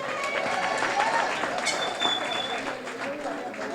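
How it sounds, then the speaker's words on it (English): An audience gives a round of applause for political leader Dr. Kit Mitchell, a steady wash of clapping that runs through the whole moment beneath a speaker's voice. "I'll give him a round of applause."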